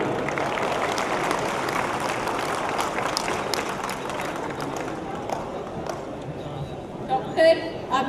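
Clapping from the crowd at a school alumni festival in Lucknow, a steady, dense wash of many hands at moderate volume that carries on for several seconds, with a brief voice near the end.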